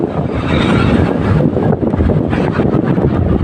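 Steady, loud wind roar buffeting the microphone in Tagaytay, with a rumbling vehicle underneath throughout.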